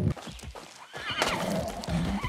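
Wild horse in a video game neighs loudly and close, a rising then trembling whinny following snorts and hoof clatter.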